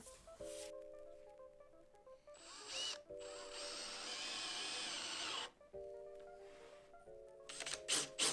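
A cordless drill drives screws through small wooden battens into larger battens while building a solar food dryer, several whirring bursts of motor whine rising and stopping, close and clear, with quiet pauses between screws.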